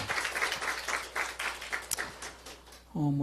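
Congregation applause in a Korean church service fills nearly three seconds with a steady, rhythmic patter of many hands, then cuts off as a voice begins speaking at the end.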